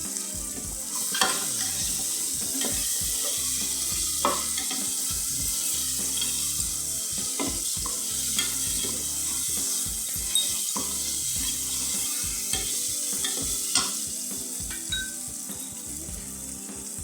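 Cauliflower and peas sizzle and fry in a pan for masala rice, a steady crackling hiss broken by repeated stirring scrapes and clinks, close up with no talking.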